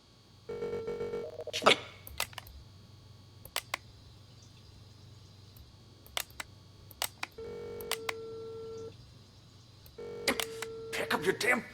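A telephone rings in the video game Unheard: short bursts of electronic ringing with long quiet gaps between them, fairly clear over faint background clicks and some talk.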